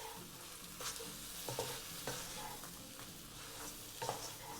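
Kam Heong prawns are stir-fried in a wok until the sauce reduces, giving a steady sizzle with repeated soft scraping and tossing strokes, fairly quiet and without speech.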